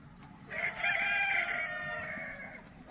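A rooster crows once on a farm, a loud, near, drawn-out call of about two seconds over quiet background, with no talk.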